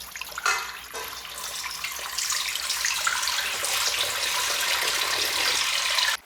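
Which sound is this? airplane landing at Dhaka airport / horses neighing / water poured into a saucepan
water poured into a saucepan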